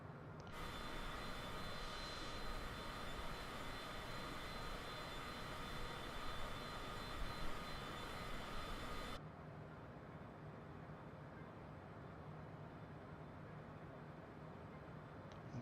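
A steady jet engine whine comes from a Cessna Citation CJ4 landing. The broadband roar is constant and moderate, then drops to a quieter, duller hum partway through.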